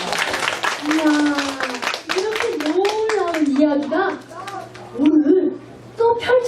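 Young children at a preschool church service clap along in short bursts while a woman's bright, sing-song voice talks over them almost continuously.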